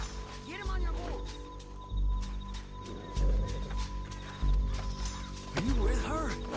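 Horse in Red Dead Redemption 2, with repeated whinnies and hoof sounds at close range, heard in bursts under steady background game ambience while people talk.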